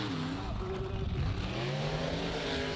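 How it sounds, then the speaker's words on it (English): The monster truck Nightmare does a big burnout in dirt at a Bloomsburg, Pennsylvania truck show, its engine roaring and revving steadily throughout while a commentator talks over it. "Nightmare and the big burnout, just throwing up dust and dirt everywhere"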